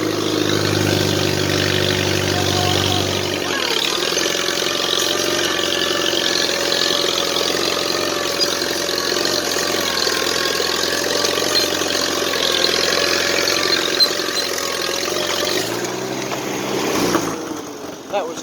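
A Farmall C tractor pulling an Oliver plow runs steadily in third gear, its engine a loud, continuous close drone that shifts pitch briefly near the start and end, with talk over it.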